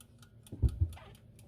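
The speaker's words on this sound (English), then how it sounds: "A timer." Quick, faint ticking of a kitchen timer, with a couple of soft low knocks in the middle.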